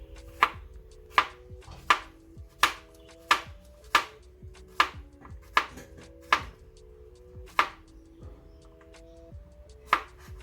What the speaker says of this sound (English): First, cut the zucchinis